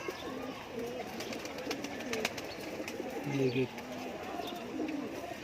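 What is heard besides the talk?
pahalvan breed pigeons cooing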